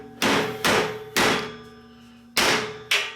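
Four loud, ringing hammer blows on a metal can, close by with uneven spacing and each strike decaying briefly, during work to turn cans into a can cassette.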